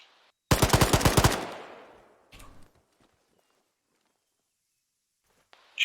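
Automatic gunfire in the Arma 3 video game: a rapid burst of about eight close, loud shots over roughly a second, trailing into echo, then a short softer burst of fire and a faint noise at the end.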